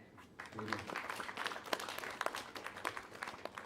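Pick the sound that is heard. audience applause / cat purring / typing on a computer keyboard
audience applause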